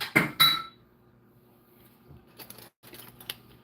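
Dishes clinking into a kitchen sink during home baking, two sharp clattering knocks close up at the start, then quieter scattered clinks and shuffling.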